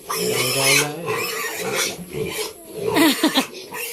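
Piglets on a farm squeal for their feed in loud, harsh bursts, with raspy rooting sounds in between and a cluster of sharp squeals near the end.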